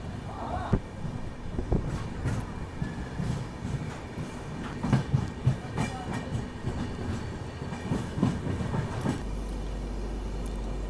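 The Ajmer Mysuru Express rolls out of Palanpur Junction, giving a steady rumbling clatter with rhythmic wheel thumps over the rails, heard from on board at a moderate level.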